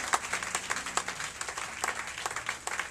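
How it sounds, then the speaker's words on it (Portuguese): A church congregation claps during a service, brisk irregular claps close to the microphone with a low murmur and faint tones underneath. "Aplauda o Senhor, querido."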